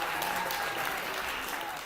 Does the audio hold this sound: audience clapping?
yes